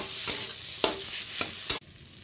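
A spoon stirs a mashed potato mixture for aloo chop in a pan, giving four sharp scraping strokes spaced about half a second apart over a soft background sizzle, close and fairly quiet.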